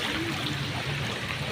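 Steady rushing floodwater during Typhoon Carina in Mandaluyong, a continuous broadband wash with gurgling texture, fairly close and unbroken.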